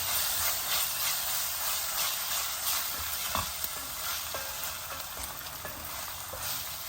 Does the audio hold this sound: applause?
no